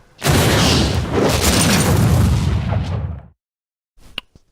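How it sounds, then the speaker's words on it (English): A loud, sustained explosion effect rumbles heavily for about three seconds, then cuts off abruptly; a brief, fainter burst of sound follows after a short silence. "Cue an explosion."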